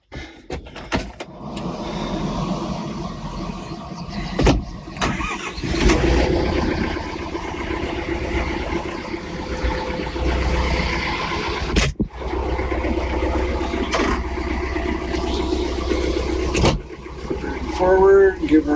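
A tractor engine starts, runs steadily and rumbles through most of the stretch as it drives, with a few sharp knocks and brief clatter over the top, and faint voices.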